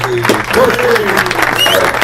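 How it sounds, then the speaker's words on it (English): Talk-show studio applause rolls on loudly beneath overlapping voices and a cheer, clapping dense and continuous with people talking over it throughout. "give me a round of applause"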